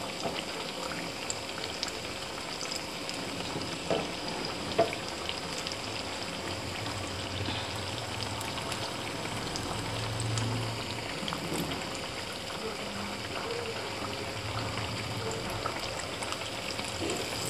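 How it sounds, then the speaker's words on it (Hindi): Potato slices deep frying in hot oil, a steady dense sizzle and bubbling that continues evenly throughout. "हम दूसरी साइड से भी इन्हें डीप फ्राई कर लेंगे गोल्डन होने तक।"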